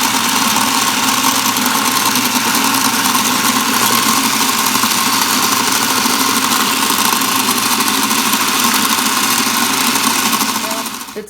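A countertop blender grinds zucchini hummus with Himalayan salt, large zucchini chunks straining the blades, producing a loud, steady motor drone that holds without break for about ten seconds before easing off at the end.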